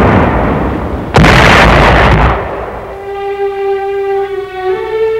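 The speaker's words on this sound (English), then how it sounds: "And tremendous artillery barrages." A sharp, loud blast from a WWII artillery barrage at the Anzio beachhead rings out after a second of rumbling noise, then fades under sustained orchestral music tones.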